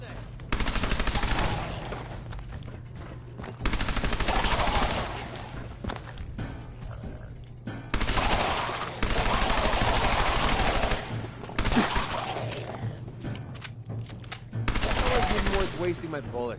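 Gunfire in the video game Fallout 4, with loud, dense bursts of rapid shots that repeat in long volleys separated by brief lulls, heard close and alone.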